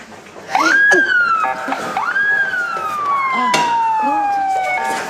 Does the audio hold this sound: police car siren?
yes